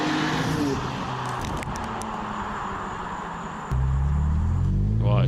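A BMW E46 M3 with its raspy S54 engine while driving, a steady low interior drone that steps up louder near the end as the revs rise.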